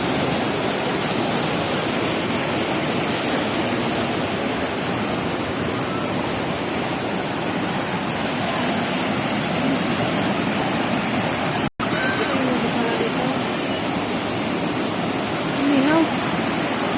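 Water rushes continuously in a broad, steady hiss, loud and close, like a river or waterfall, with one brief dropout and faint voices barely audible underneath.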